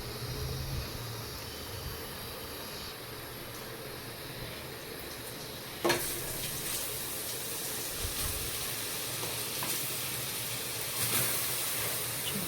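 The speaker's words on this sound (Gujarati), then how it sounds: "મસ્ત આપણું ઘી થઈ ગયું છે ગરમ ને આપણે ગાજર નાખી દીધા છે" Grated carrots frying in hot ghee in a pan, a continuous close hiss and sizzle holding steady throughout, with a sharp clatter near the middle and a brief swell of sizzling later, without talk.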